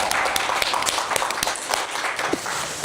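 An audience applauds at a T1 esports fan event with a host, steady scattered clapping with distinct sharp claps popping out of a continuous wash, moderately loud and close, with no voices over it.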